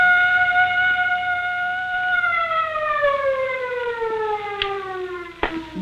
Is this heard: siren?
yes